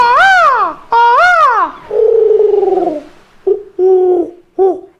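A person imitates bird calls: two loud swooping whistles, then a wavering trill and three short chirps, close and alone.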